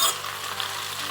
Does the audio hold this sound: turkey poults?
no